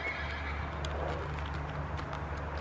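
Shetland ponies roaming free in a forest give a close neigh, with soft hoof clopping and shuffling over a steady low outdoor rumble.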